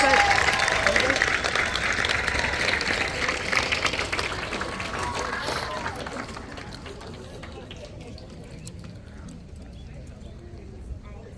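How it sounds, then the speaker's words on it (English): Audience applause for demonstrators at an outdoor Turning Green Day event, loud and dense at first, then thinning and fading over several seconds, with crowd noise and faint voices underneath. "please give our demonstrators a round of applause"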